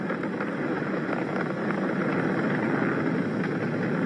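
Falcon 9 rocket engines roaring during a crewed SpaceX launch while throttling down through maximum dynamic pressure, a dense, steady broadband rumble heard from afar and mixed with wind-like noise, unbroken, with no voices.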